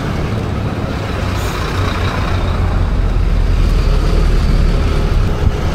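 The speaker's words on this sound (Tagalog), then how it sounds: "Grabe ka traffic. Grabe ka traffic kanto diri." Heavy road traffic with trucks and buses in Cebu, a loud continuous rumble of engines crawling past close by, steady throughout with no talk.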